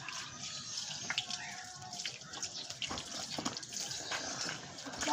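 Water runs steadily from a kitchen tap, a continuous close splashing rush with small drip-like spatters throughout and no talk over it.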